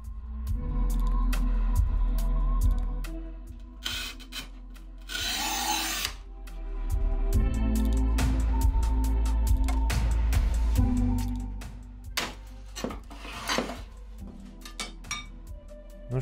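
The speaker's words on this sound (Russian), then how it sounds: "попробуем произвести тест, и мы порежем керамогранит по диагонали" A budget manual tile cutter scores porcelain stoneware tile diagonally with long grinding scrapes, punctuated by a loud hissing burst, sharp snaps and clinks of the tile, and handling knocks toward the end.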